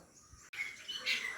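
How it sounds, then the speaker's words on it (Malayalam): Faint, high bird chirps ring out in short tonal bursts against quiet outdoor ambience, with a brief click partway through. "ബാക്ക്ഗ്രൗണ്ട് നല്ല കിളികളുടെ ശബ്ദം ഉണ്ടാവും"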